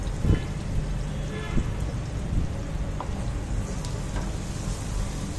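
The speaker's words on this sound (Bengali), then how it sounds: "তেল দেওয়ার পর হচ্ছে পেঁয়াজ কুচি, রসুন কুচি আর হচ্ছে কাঁচামরিচ এগুলো দিয়ে ভেজে নেব লাল লাল করে" Chopped onion, garlic and green chili fry in hot oil with a steady crackling sizzle and scattered pops, close and moderately loud, with no talking.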